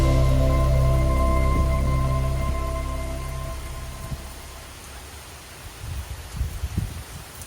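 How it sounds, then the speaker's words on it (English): Heavy rain falling outside on a Saturday morning, a dense steady wash of noise that holds under a fading low hum and then thins to scattered drips and patters. "I woke up to rain on Saturday morning, a lot of rain"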